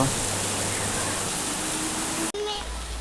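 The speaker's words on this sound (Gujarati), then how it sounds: "વરસાદ ચાલુ થઈ ગયો હતો" Steady rain pours down in a sudden, heavy shower in rural Gujarat, a dense even hiss filling the whole scene, with a brief dropout near the end.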